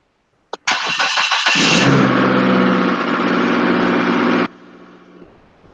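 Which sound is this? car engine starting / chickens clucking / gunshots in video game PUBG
car engine starting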